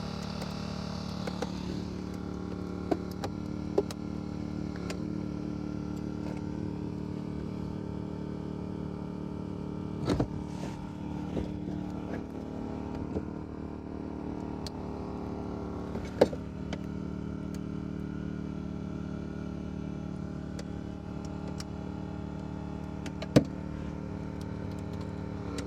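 A hydraulic rescue cutter slices through a car body during vehicle extrication, with a steady mechanical drone and occasional sharp metallic snaps and cracks at close range.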